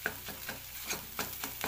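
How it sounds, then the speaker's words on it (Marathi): Egg bhurji stir-fried in a pan over a medium gas flame, with a soft sizzle under quick, rhythmic scraping strokes of a spatula, close and fairly quiet. "गॅसची फ्लेम मध्यम ठेवून परतून घेऊया आपण"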